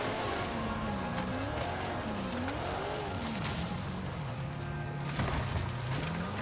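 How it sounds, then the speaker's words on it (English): A V8 car engine in a video game revs up and down repeatedly with a deep, throaty roar, close and loud, with occasional tire squeal. "That nice V8 Thunder."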